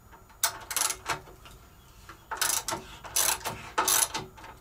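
A wrench ratchets and clicks in short bursts while loosening a nut on a NordicTrack elliptical flywheel, close and fairly quiet with pauses between the metallic clatters.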